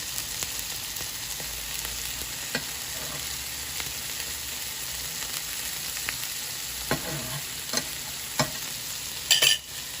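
Browned cod fish frying in butter in a pan, a steady close sizzle with occasional spatula taps and scrapes, heard alone.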